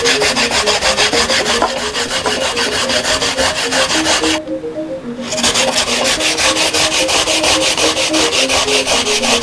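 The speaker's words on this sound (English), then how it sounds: "Now let's grate the coconut." Fresh coconut grated by hand for Balinese vegetarian urab, a steady rhythmic rasping that runs loud and close, pausing briefly midway before resuming.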